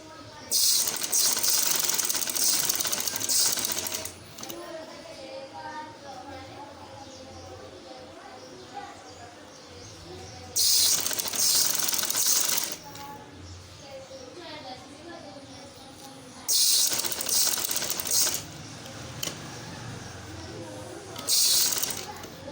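A sewing machine stitches a shirt, running in loud buzzing bursts of a few seconds each, separated by quieter gaps where someone talks.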